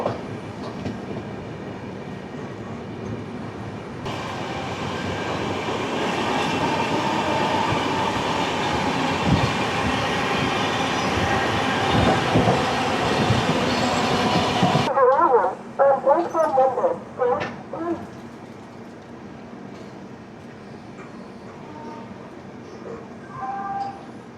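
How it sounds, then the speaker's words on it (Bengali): The Kolkata Express passes Sitarampur Junction after rain, heard as a loud, steady roar of wheels and carriages for about eleven seconds that cuts off abruptly and gives way to quieter rattling and clatter. "ট্রেন এখন পেরোচ্ছে সীতারামপুর জংশন।"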